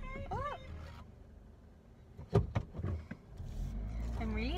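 A car is driven with a low, steady engine and road rumble underneath, along with a few thumps and clicks inside the cabin while someone talks.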